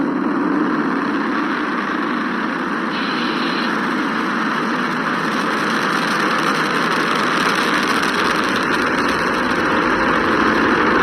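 Steady, dense roar of a Falcon 9 rocket's nine Merlin 1D first-stage engines during launch, broadband and continuous with a low rumble underneath, unbroken for the whole stretch.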